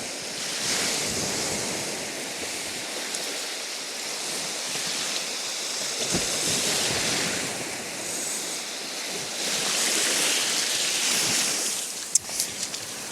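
Sea waves wash steadily onto a sandy beach, a continuous rushing surf with gentle swells and some wind noise, with no voices.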